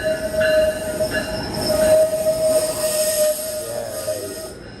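A train running on rails, its wheels squealing with a steady high whine over continuous rumbling, loud and close throughout, with no talking.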